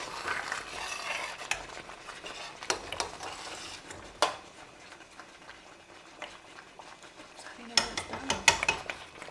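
Jam boils in a pot while a spoon stirs and scrapes it, giving soft bubbling under scattered clinks and knocks against the metal, with a few sharper taps near the end.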